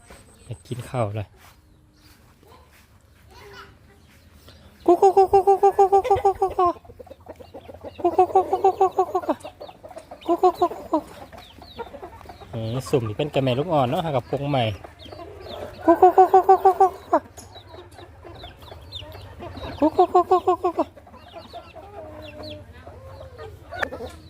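Chickens on a rural Thai farm cluck and squawk in repeated loud bursts, some sounding like brief crowing, with someone talking in between.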